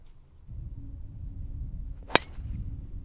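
A putter strikes a golf ball once on the course during a foursome golf tournament, a single sharp tap standing out against quiet outdoor background noise.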